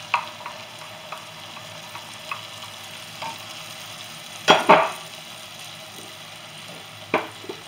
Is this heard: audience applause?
no